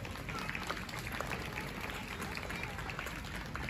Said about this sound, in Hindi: एक बार फिर से हम जोरदार तालियां बजाएंगे सब बच्चों के लिए